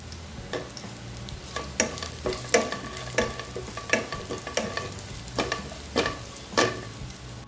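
Onion frying in ghee for onion rice, with a soft continuous sizzle broken by repeated scraping stirs of a spoon in the pan, close and steady, with no voices.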